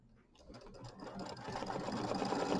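Embroidery machine stitching the outside edges of a Kimberbell mini quilt block, a steady close mechanical whir that grows slightly louder, with faint voice-like sound underneath.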